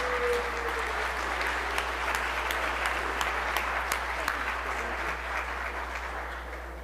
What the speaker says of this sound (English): Would y'all give them a round of applause?